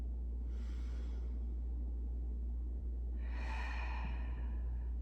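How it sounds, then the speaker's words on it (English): Slow, deep breaths taken while standing still in a yoga pose: two soft, airy exhalations close by, separated by a quiet pause, over a steady low hum, with no talking. "take a couple deep breaths to prepare here"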